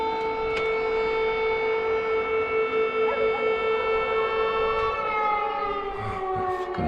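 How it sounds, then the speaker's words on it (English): Air raid sirens wail in a long sustained tone that slowly falls in pitch, heard at a distance across a town near Russia's border, with no voices over it. "there's fucking air sirens going on"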